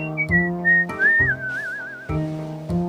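A person whistles a short bright melody up close, with a few quick rising and falling notes and a warbling trill. The whistle plays alone for about three seconds.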